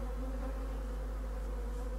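A honeybee swarm hums steadily around a small nucleus hive box, the bees struggling to finish climbing in; a dense, continuous drone holds close and even throughout, with no voices.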